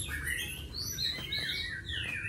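Close, clear song of a Chinese hwamei (họa mi): fluid whistled phrases rising and falling in quick succession, sustained throughout with a soft low background rumble.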